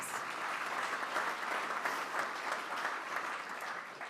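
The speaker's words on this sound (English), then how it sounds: "Let's give them a round of applause" Audience at a meeting applauds the volunteers who came early, a steady broadband wash of many hands clapping that holds at even strength throughout.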